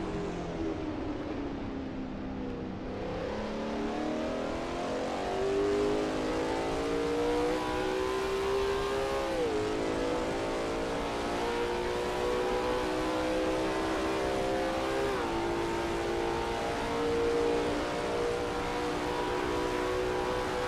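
A Lola T70 MkII Spyder race car at Kyalami roars steadily near and loud, its engine note rising and dipping with shifts and throttle changes, with no talk over it.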